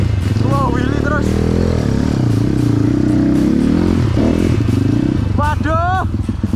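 A Kawasaki KLX230 trail motorcycle is ridden in wheelies, its engine droning and revving loudly and close by throughout, with rising pitch bursts as the throttle opens.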